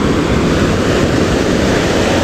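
Strong sea waves crash against the shore in a loud, continuous rush of surf and spray. The roar holds a steady level throughout, and no one speaks over it.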